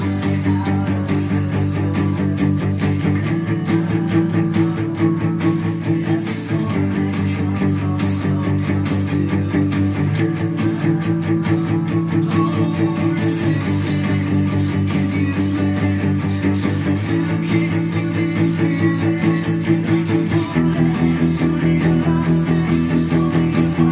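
Electric guitar playing power chords for a punk song along with the backing music, a dense and steady full-band sound that stays loud for the whole stretch, with no voices over it.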